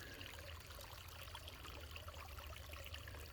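Water flows in a continuous soft trickle, steady and fairly faint with no other sounds.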